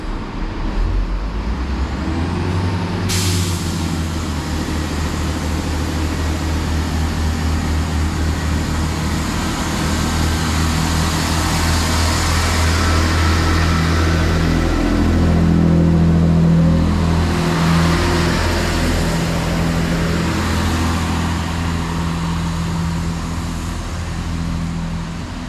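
A GWR Class 165 Turbo diesel multiple unit pulls away from a Wiltshire station, its engine droning low and building in pitch and loudness, with a sharp clank early on and steady rumble throughout.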